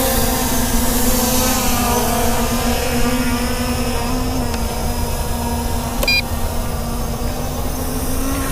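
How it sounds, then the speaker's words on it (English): The small electric motors of an MJX Bugs 3 Pro GPS drone spin up for takeoff, a steady high whine with a constant buzzing drone held throughout, close and fairly loud, with no talk. "You press that button there to unlock the motors, the red button, and do the easy takeoff."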